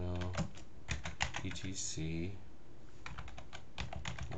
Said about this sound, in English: we have to type for that sudo nano